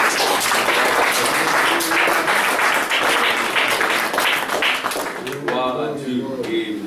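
A church congregation claps and cheers in sustained, dense applause that fills the room, loud and steady throughout, with voices joining in as it tapers near the end.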